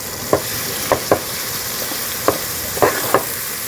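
Onions fry in a pan for a Telugu-style fish curry, a continuous sizzling hiss broken by six sharp spatula scrapes and knocks at irregular intervals, close and clear with no one talking.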